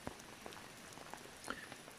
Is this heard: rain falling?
yes